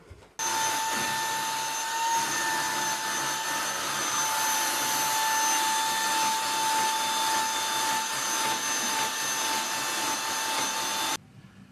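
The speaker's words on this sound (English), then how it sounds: "I've been hoovering the stairs" A vacuum cleaner hoovers a household staircase, its steady motor whine running loud and continuous from start to finish with no talking.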